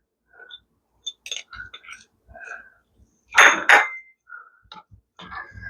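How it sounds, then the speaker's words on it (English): A utensil stirs pickles into a mixture in a bowl, with scattered clinks and scrapes, then two loud, close scraping bursts midway, followed by more light knocks. "then we're going to stir in the pickles"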